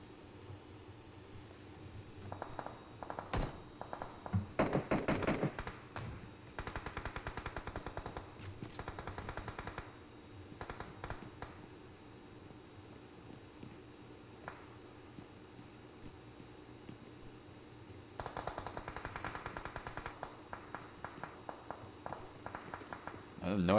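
Rapid bursts of automatic gunfire and scattered shots echo through a battle royale video game, with footsteps and movement between bursts, while a commentator talks throughout.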